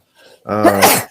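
A single sharp sneeze from one person, close and loud, preceded by a brief soft intake of breath, with no other sound around it.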